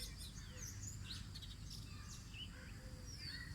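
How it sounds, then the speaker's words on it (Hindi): Small birds chirping and twittering outdoors at dawn, many quick high tweets overlapping over a constant low background hum, fairly faint and continuous. "ये चिड़ियों की चहचहाट,"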